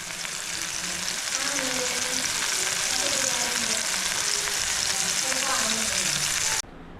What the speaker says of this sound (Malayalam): ഒരു സൈഡിൽ ഇതാ കൊഞ്ച് ഫ്രൈ ചെയ്തുകൊണ്ടിരിക്കുകയാണ്